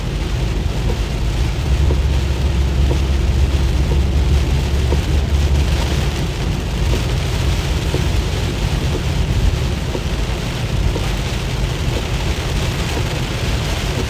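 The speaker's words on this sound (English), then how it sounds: "Just dumping rain." Heavy storm rain pours down steadily and loudly, a dense, unbroken roar with low thunder rumbling underneath, heard from inside a vehicle while storm chasing in the Midwest.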